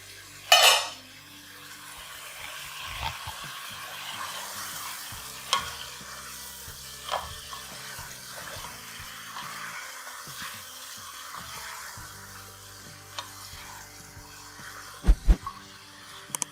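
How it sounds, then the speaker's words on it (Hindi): Potato pieces and kachnar buds fry softly in oil, a low quiet sizzle under occasional spoon scrapes and sharp clinks against the pan, louder taps near the end, no talking. "इसमें मैं डाल दूँगी ये आलू और ये कचनार, इसको हम ऑयल में फ्राई करेंगे।"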